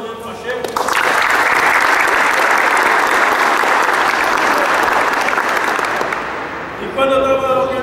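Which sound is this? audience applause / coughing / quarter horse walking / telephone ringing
audience applause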